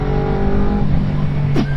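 A 250 motorcycle engine revs hard toward redline, a loud close steady drone whose pitch shifts, with a brief sharp sweep near the end, and no talking.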